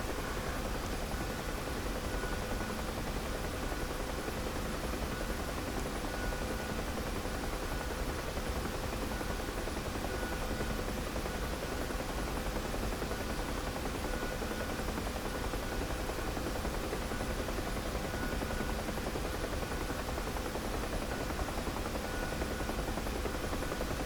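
A Huey helicopter in the DCS flight simulator flies steadily at altitude, giving a continuous broadband rotor and turbine drone that stays even and loud throughout with no talk.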